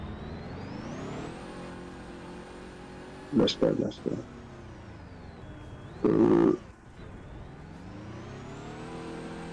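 An engine in the Roblox Prison Life video game hums and revs steadily as the car drives along, pitch rising and dipping with speed, while a voice speaks briefly and short bursts of talk sit over the motor.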